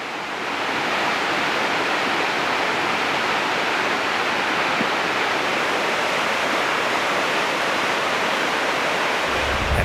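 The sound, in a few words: raging mountain torrents swollen by rain in Austria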